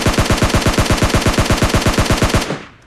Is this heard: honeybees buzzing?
no